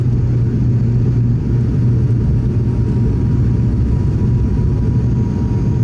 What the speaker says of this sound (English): Entering runway 18 left. Yeah, very short takeoff.